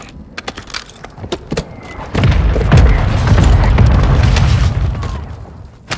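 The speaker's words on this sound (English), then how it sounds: "Requesting fire mission! Target mark! Copy your mark. Mortar strike inbound." A mortar strike in Call of Duty Warzone 2.0 on Ashika Island: scattered sharp cracks and thumps give way to a loud, deep rumbling explosion that roars for several seconds before fading.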